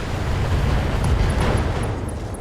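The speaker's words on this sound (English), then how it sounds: "we got another Ramo explosion" A loud, rumbling blast from a Battletech mech battle, a dense roaring burst that fills the whole moment with no talking over it.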